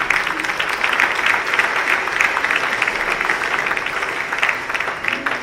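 An audience at a company's 20th anniversary celebration applauds a director general, a continuous, fairly loud round of clapping that carries on evenly with a slight fade near the end.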